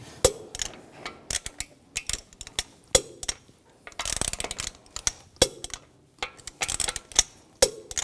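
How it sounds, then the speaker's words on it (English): A torque wrench tightens the lug bolts on a 2004-2009 Audi A4 Quattro wheel in a cross pattern, making close, sharp ratcheting clicks in short bursts with a longer run of clicking midway and quiet gaps between. "Now I'm going to torque the lug bolts to 90 foot-pounds in a cross pattern to tighten the wheel down evenly."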